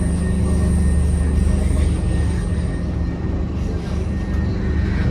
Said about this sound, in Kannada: ಈ ಟ್ರೈನ್ ಹೋಗ್ತಿದೆ ನೋಡಿ